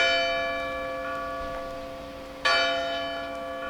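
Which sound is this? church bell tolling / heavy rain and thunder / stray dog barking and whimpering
church bell tolling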